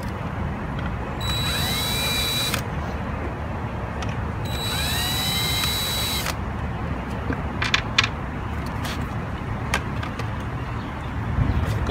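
A power driver whirs in two short bursts as it backs out the two front screws of an appliance control board, each whine rising in pitch, followed by light clicks and handling noises.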